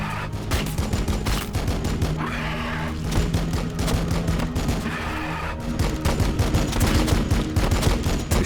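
Rapid bursts of gunfire and booming shots from the Warhammer 40,000: Battlesector strategy game, Blood Angels in combat, dense and continuous with overlapping volleys throughout.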